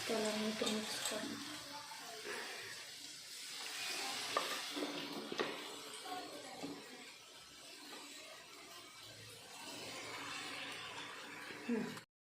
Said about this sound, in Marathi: असं भज्यासारखं थोडं थोडं तळून घ्यायचं आहे आपल्याला